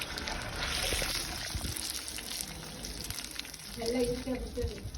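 Andhra-style raw fish fries in a pan with a steady, soft sizzle and crackle, while a voice speaks briefly near the end.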